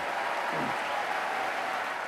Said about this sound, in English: There were huge roars of applause from Labour's growing crowds.